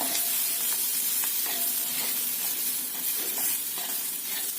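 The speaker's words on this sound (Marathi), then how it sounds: "मसाल्यासहित शेंगा आणि परत परतून घ्यायचं" Roasted radish pods tossed with crushed spices in a pan over low heat: a continuous close sizzle and hiss with soft scraping stirs, loud and alone with no talking.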